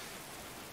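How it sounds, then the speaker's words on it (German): Steady rain falls in the medieval colony-building game Going Medieval, a soft, even hiss of drops filling a brief moment with no voices. "Es regnet."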